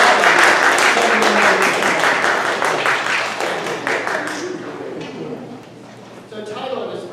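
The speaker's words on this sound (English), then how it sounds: "And a round of applause" Congregation applause at a Unitarian flower communion service, dense broadband clapping filling the room for about four seconds, then thinning and fading toward the end, with some talk underneath.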